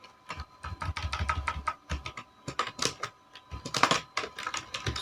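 Fast typing on a computer keyboard while coding an HTML5 web page, with dense bursts of close clicking keystrokes broken by short pauses.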